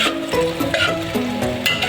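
A dish frying in a pan, steady close sizzling with stirring scrapes, while a person talks over it.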